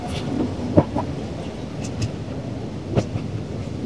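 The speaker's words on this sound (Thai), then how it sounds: "ตอนนี้รถไฟก็มาถึง" A train arrives near the Makkasan railway maintenance depot: a steady low rumble with occasional rail clanks and squeaks, heard at a moderate distance with no voices.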